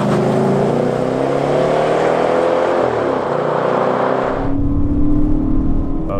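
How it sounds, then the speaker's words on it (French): A Chrysler 300C with a V8 Hemi accelerates hard on a straight road, its engine note rising steadily and loudly as it revs through the gear, then shifting abruptly to a lower, rougher rumble near the end. "on va se faire une petite accélération en ligne droite"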